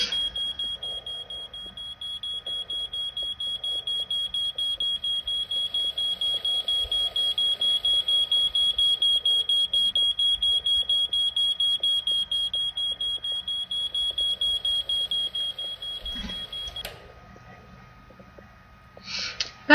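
A smoke alarm beeps in a steady, rapid repeating pattern of shrill tones, fairly loud and close, for about sixteen seconds before cutting off, leaving faint room noise.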